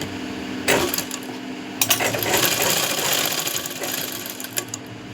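A sewing machine runs continuously, stitching a folded fabric seam with a steady mechanical whir and a few sharp clicks along the way, loud and close throughout.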